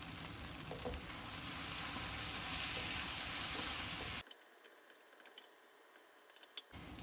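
Fennel seeds and spices hiss loudly in hot oil for a tadka for about four seconds, then the sizzle cuts off abruptly, leaving a quiet pan with a few faint ticks.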